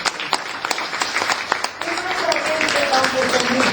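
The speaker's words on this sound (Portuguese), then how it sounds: "Uma salva de palmas para ele." Applause from a church gathering's crowd rises in the second half, a dense steady patter after scattered claps and speech, with a voice still talking over it.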